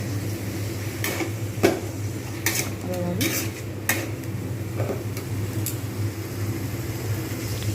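A metal spatula scrapes and clinks against a cooking pan while stirring and mashing tomato for patal paneer, with irregular sharp knocks spread across the stretch over a steady low kitchen hum and faint sizzle.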